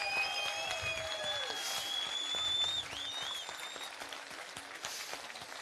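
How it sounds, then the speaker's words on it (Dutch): Applause from an outdoor political rally crowd for an inquiry committee, fairly distant and soft, with scattered clapping under whistles and faint crowd noise. "Dus ook een applaus voor de buitenparlementaire onderzoekscommissie."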